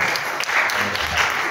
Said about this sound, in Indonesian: Tepuk tangan tuh Bapak ini.